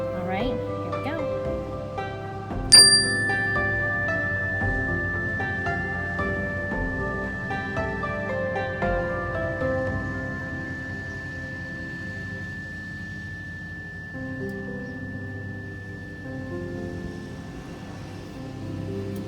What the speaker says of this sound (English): So that is the mindful bell.